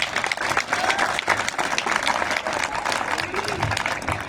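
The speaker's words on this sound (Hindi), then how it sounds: "बच्चे स्वयं अपने लिए ताली बजा करके स्वागत" Children applaud at a Uttarakhand foundation day ceremony, a steady patter of many hands clapping at close-to-middle distance, with a voice speaking over it.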